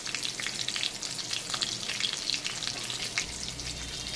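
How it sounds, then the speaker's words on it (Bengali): Pieces of pointed gourd (potol) fry in oil in a pan, giving a steady crackling sizzle with sharp spitting pops throughout, at moderate volume and with a low rumble entering at the close. "আমার এই পটল কটা 2 খোলায় ভাজতে হবে"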